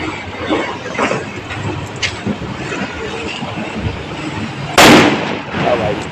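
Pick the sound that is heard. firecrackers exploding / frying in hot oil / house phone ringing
firecrackers exploding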